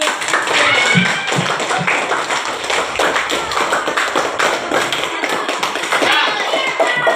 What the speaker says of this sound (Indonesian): Kalau gitu kita tepuk tangan.